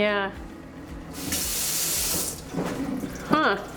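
A tap runs in a house being renovated for a flip as the water pressure is tested, a steady hiss of flowing water with a person speaking briefly before and after.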